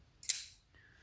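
A titanium framelock knife flicks open with the middle finger: one sharp, bright metallic snap as the blade locks, followed by a faint click in near silence.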